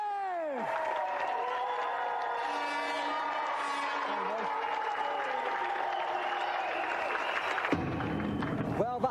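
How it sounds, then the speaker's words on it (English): A TV game show studio audience applauds and cheers for the winner and loser, a sustained dense clapping crowd under musical tones, loud and steady before cutting off. "a round of applause for our gallant loser, Conley, and tonight's winner, Jeff!"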